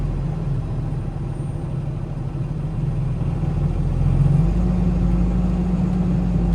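A delivery truck's engine rumbles steadily and close as it pulls away in first gear, with the low drone rising in pitch and loudness partway through as the vehicle gets going.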